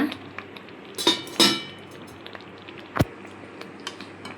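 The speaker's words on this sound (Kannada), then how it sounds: "ಇವಾಗ ಲಿಡ್ ಒಮ್ಮೆ ಓಪನ್ ಮಾಡ್ಕೊಳ್ಳೋಣ." Metal clinks and clatters as the lid comes off a pan of paneer palak gravy cooking on low flame, two close clanks followed by a lone sharp knock in a quiet kitchen.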